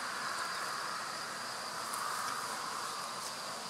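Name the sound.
honeybees buzzing around a Dadant hive during transfer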